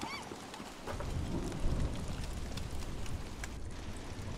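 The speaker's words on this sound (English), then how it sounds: "the rain is dropping quick" Steady rain hisses in Don't Starve Shipwrecked, a dense continuous downpour that swells louder after the first second, with a low rumble suggesting thunder beneath it and no talk.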